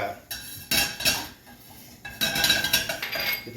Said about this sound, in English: Okay, the beans. There we go. Those are popping.